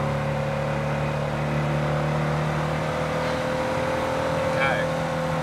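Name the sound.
Porsche 356 B car engine while driving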